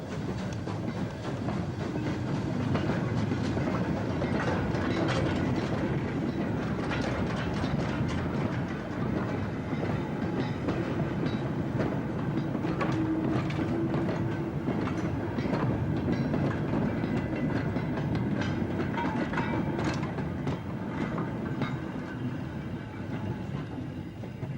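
British steam locomotive 76079, built at Horwich in 1957, running on rails, a continuous rolling rumble with rhythmic clickety-clack of wheels over rail joints, steady and moderately distant for the whole stretch.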